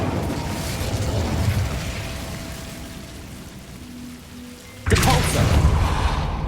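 An Incendio fire spell cast in Hogwarts Legacy, starting as a steady crackling hiss and then erupting in a sudden loud whooshing burst of flame near the end.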